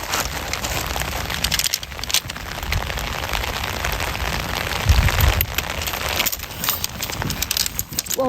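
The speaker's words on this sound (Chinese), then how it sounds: "哇，暴雨來了" Heavy downpour drumming steadily on a tent with a double-coated fly and DAC aluminium poles, a dense, loud, continuous wash with occasional heavier bursts and no talk.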